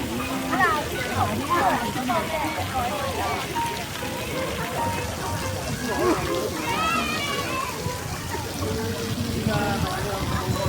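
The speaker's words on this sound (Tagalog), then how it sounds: "Naglalaro na siya ng ano, tubig." Continuous water splashing and sloshing from a child playing in water outdoors, steady and fairly loud, with voices talking and calling over it throughout.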